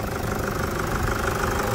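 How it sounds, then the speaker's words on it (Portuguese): A 2008 Toyota SW4 engine runs steadily at idle after a full overhaul, a close, even mechanical hum with a faint knocking texture and no voices. "Olha que funcionamento desse motor, guerreiros."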